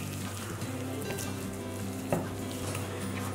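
Salt, finely chopped green chilli and lemon juice being stirred together for a snack batter, a steady wet mixing and scraping texture under a constant background hum, with one brief clink of a utensil partway through.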